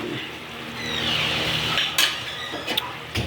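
A metal lid clatters onto a cooking pot of pinakbet with eggplant in a home kitchen, giving a few close, sharp clinks and knocks over a low simmering background.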